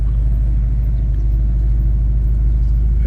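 Steady low car rumble from a vehicle cruising around the prison grounds in Joliet, Illinois, a continuous droning hum with no voices.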